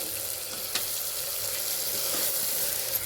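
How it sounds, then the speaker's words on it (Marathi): Onions and vegetables sautéing in a pan over a low flame for homemade pav bhaji, a steady soft sizzle with a few faint clicks of stirring and a slight watery hiss, no voices. "मंद आचेवर या सर्वांना एकजीव असं परतून घ्यायचं, गोल्डन कलर येऊपर्यंत कांद्याचा"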